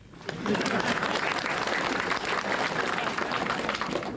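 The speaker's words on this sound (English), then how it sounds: "So I think we should clap for him." A crowd at a state funeral service applauds during a presidential speech, producing a steady, dense wash of clapping that swells quickly and holds loud and even for about four seconds.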